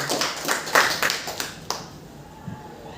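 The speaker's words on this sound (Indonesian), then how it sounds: "Tepuk tangan sekali lagi untuk kita semua." An audience at a school dissemination event claps, a handful of sharp, scattered hand claps that quickly thin out and fade to near quiet with one faint tap at the end.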